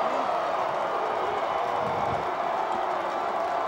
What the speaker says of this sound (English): Tobias Carter urging the crowd to get into it and make some noise on our side